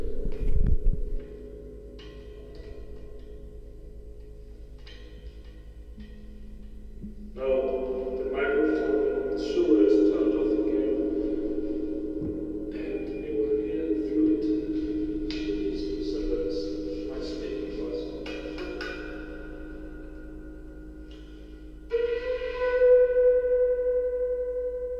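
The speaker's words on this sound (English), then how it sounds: "let me play again for the stereo cymbal reverb" Sound played through a homemade stereo plate reverb built from two cymbals with piezo pickups. Sustained ringing tones swell and decay in a long, humming resonant wash with several louder entries, and no talking is heard.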